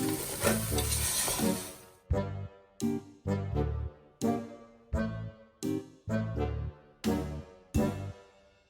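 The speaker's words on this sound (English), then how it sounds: "so we stir it a little bit, maybe like 5-6 minutes" A spoon stirring a mixture in a cooking pan, the egg about to go in, heard as repeated scraping strokes with a soft sizzle underneath, regular bursts about every second, close and fairly loud.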